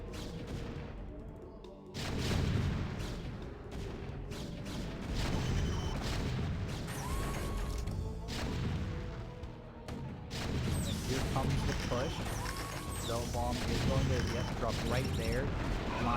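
Explosions in a StarCraft II match as a mine is dragged over and destroys two tanks, sharp booms and crashing bursts amid constant battle noise, with a caster talking excitedly throughout.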